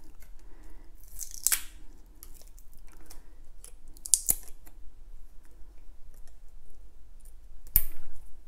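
A Shimano Di2 internal SM-BCR2 battery pack is pulled apart by hand, with a few sharp snipping and tearing crackles separated by quiet handling, close up and without speech.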